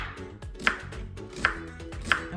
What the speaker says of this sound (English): Now, I'm going to slice my onions,